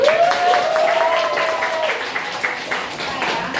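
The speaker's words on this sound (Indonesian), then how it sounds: "Ya, tepuk tangan." Audience clapping in a resilience talk, a steady patter of many hands at moderate level with a sustained voice or tone early on and some background voices.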